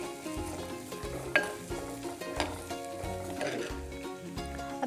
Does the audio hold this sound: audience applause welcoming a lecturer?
no